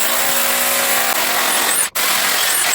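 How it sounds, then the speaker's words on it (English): A power drill bores straight down into a concrete slab beside rebar during shower floor prep, a steady loud grinding whine running continuously with one brief cut-out near the end. "I'm just gonna drill right next to that rebar, straight down into the slab."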